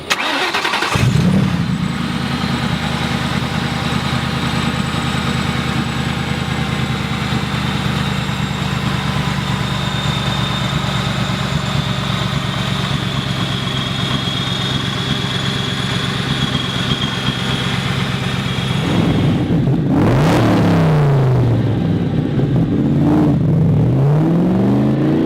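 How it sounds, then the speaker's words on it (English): A supercharged 1965 Shelby Cobra replica engine cranks and fires, settles into a loud steady idle with a high supercharger whine, then revs sharply twice near the end. "Alright, here we go for riding this Cobra. Love hearing the supercharger."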